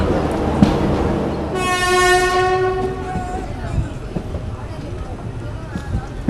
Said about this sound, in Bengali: তিরুপতি রেণিকুণ্ড স্টেশন থেকে ফাইনালি গাড়িটা ছাড়লো তিরুপতির জন্য